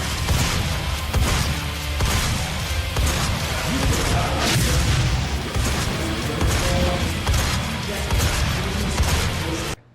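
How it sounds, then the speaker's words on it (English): Rifle and shotgun blasts in the video game Doom, heavy booming shots and crashes packed into dense loud combat noise that continues steadily before cutting off abruptly at the end. "the gun blasts are very satisfying, especially the rifle and the shotgun"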